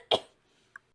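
A man in an audio drama, gasping after being choked, lets out one harsh, loud cough burst at close range, followed moments later by a brief faint sound. The rest is near silence.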